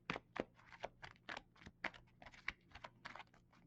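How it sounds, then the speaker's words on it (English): A deck of game cards is shuffled and handled at a tabletop, a quick run of soft, crisp snaps and riffles, close and fairly quiet, in irregular bursts with no voices. "let's shuffle again"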